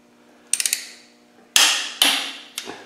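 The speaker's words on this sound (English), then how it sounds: "just nip it down so it's even, and check it again" A torque wrench clicks and clanks while tightening crankshaft main bearing bolts on a 300Tdi engine being rebuilt: a quick rattle of clicks, then several sharp metallic snaps, close and loud in a quiet workshop.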